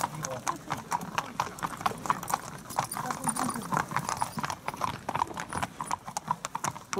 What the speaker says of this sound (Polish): Koń czwarty, numer 5, Dando Budwizin